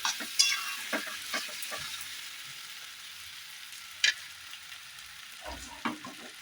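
Spice paste for ghugni stir-fried in a pan, a soft continuous sizzle broken by occasional scraping stirs and light knocks of the spoon against the pan.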